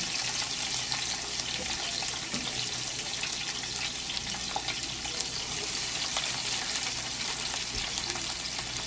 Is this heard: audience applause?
no